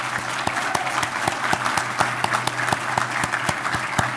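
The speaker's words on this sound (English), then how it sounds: "Let's please give them all a big round of applause." Guests at an annual installation and awards banquet give a round of applause. Crisp individual claps stand out over a steady room hum, and the clapping stays loud and continuous for several seconds.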